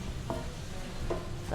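Mushrooms with dried basil sizzling steadily in a pan, with a couple of faint scraping stirs over the constant hiss.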